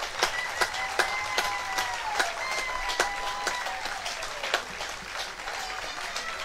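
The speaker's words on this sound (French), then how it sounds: "je voudrais que vous applaudissiez tous les bénévoles" Audience at the 2019 La Talaudière final applauding the volunteers, a dense and steady clapping from a crowd throughout, with whistles or shouts rising over it.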